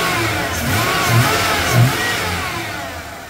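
Supercharged 5.0 V8 in a 1995 Ford F150 pickup revving in a garage, a loud continuous engine roar with two short throttle blips swelling over the steady drone, plus a faint high whine.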